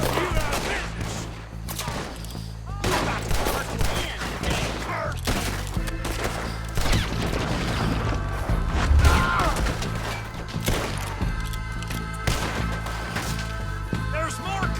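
Raiders shooting in the Red Dead Redemption 2 game, with repeated gunshot cracks and scattered impacts over a busy battle, while voices talk and shout throughout.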